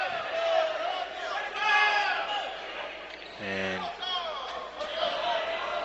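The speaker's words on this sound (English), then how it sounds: "things getting a bit scrappy here. The crowd getting into it." Basketball arena crowd during a tense men's college game between Eureka and Beloit, a loud rumbling din of shouting and whooping fans that swells and stays steady, with a commentator talking over it.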